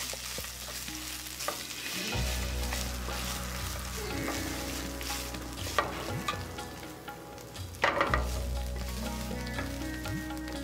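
Grated coconut sautéed with spices in a hot pan for Chennai mutton biryani, a steady close sizzle with scraping stirs and a few clanks of the spoon throughout.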